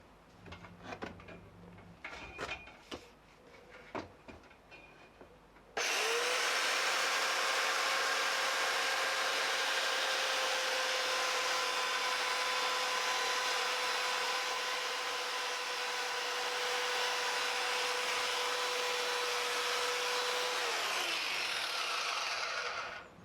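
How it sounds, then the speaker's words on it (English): Belt sander running against a wooden guitar body during a custom build, starting abruptly after some quiet handling noise and then holding a loud, steady whine with a constant hum for about fifteen seconds before stopping. "now I'm going to sand it down with the belt sander, being careful not to take too much off"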